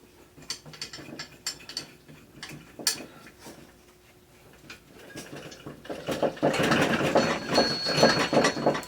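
A Park Tool wedge-style tool being tightened inside a bicycle seat tube, with a run of close, sharp ratcheting clicks at an irregular pace, then a louder, denser burst of mechanical clicking and rattling, no voice.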